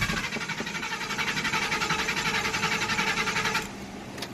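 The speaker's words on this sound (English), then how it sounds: "And I'll be cranking and cranking like this, guys, and it won't want to turn on." A car engine cranks repeatedly without catching, the starter whirring in a fast, rhythmic pulse for several seconds before cutting to a lower, steadier hum near the end; loud and close, with no talking.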